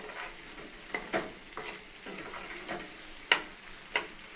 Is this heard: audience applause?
no